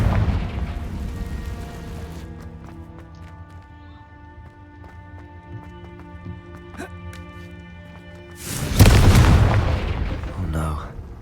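The Confringo fire spell blasting in Hogwarts Legacy, a sudden loud explosive burst near the end after a stretch of quieter game tones and music, with a roar that fades out.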